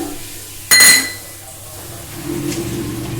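Whole spices, a large cinnamon stick, small cardamom pods, black pepper and cloves, drop into a kadai for chicken curry, giving one sharp clattering burst followed by a quieter, longer sizzle.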